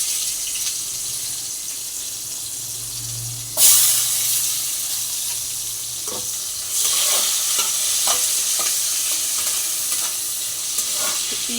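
Onion, black cumin, dried chilli and crushed garlic fry in a pan: a quiet background sizzle suddenly flares loud as the onion drops into hot oil, then settles into steady frying with intermittent stirring scrapes.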